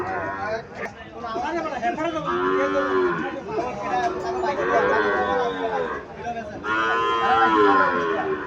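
Cattle at a Bangladeshi calf market moo repeatedly in long, loud, drawn-out calls, one after another, over a background of market chatter and voices.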